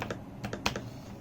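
Quick bursts of typing on a Redragon K552 mechanical keyboard with lubed Outemu Ice Purple switches, a handful of close, crisp keystrokes in an uneven rhythm with no talk.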